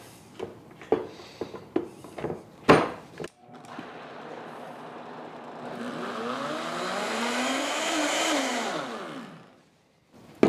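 A blender whirs steadily for several seconds at close range, its motor pitch rising and shifting as the contents churn, after a series of sharp knocks and clatters.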